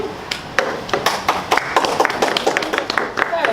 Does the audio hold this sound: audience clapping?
yes